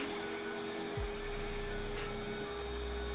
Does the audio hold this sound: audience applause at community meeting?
no